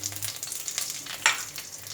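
Curry leaves crackling in hot oil with mustard seeds over a very low flame, a continuous soft sizzle with a brief sharper spatter midway, no talking.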